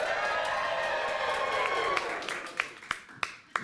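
A live audience cheers and applauds in a loud, dense wash of crowd noise that fades after a couple of seconds into a few scattered, sharp claps.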